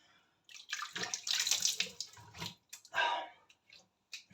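Running water splashing as a face is rinsed during an evening wet shave, bursts of close, irregular splashing and trickling with short pauses between scoops.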